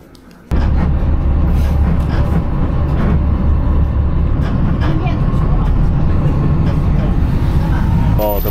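A short bus ride in China: a loud, steady engine and road rumble kicks in abruptly and drones on with rattles, while people talk over it.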